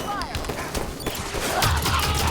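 Halo 5: Guardians gunfire crackles in a quick, dense burst of combat, the shots running together over a voice talking.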